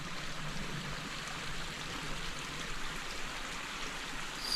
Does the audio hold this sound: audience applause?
no